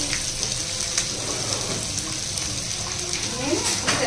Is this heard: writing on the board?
no